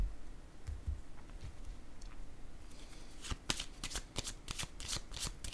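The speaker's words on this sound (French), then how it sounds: "Attendez, je vais déposer une autre carte ici." A tarot card is laid down on a table during a reading, with soft card handling followed by a run of crisp, close paper flicks and snaps, fairly quiet and without talk.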